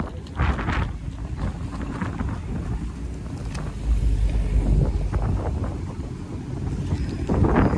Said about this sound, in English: Hopefully you can hear me because it's really windy over here.